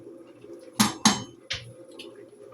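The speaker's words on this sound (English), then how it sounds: "Give that a little stir." A metal spoon stirs macaroni in a cooking pot on a stove, giving three sharp clanks against the pot, two in quick succession and then a third a moment later, over a low steady background hum.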